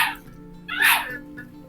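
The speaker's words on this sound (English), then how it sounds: "That dog is like making some noise." A dog gives a sharp bark or yelp, with a softer sound just before it and a faint one after, heard against quiet room hum during an online game session.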